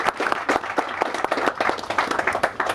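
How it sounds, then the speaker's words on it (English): An audience at a Freedom Park water quality celebration claps for a color guard team, a brisk burst of fairly close, uneven hand claps that continues steadily throughout. "Let's give a round of applause to Captain Peltz and his team."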